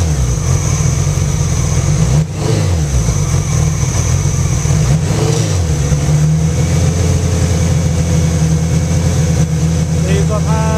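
A Honda Goldwing motorcycle engine converted to a single carburetor idles steadily, then gets revved up a couple of times with the throttle before settling into a higher, sustained drone around 3,000 rpm.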